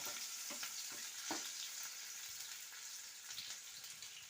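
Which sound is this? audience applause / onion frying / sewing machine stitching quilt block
onion frying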